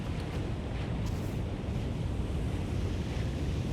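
Dense, steady roar of a waterfall in the Aloft video game, constant and fairly loud with no talk over it.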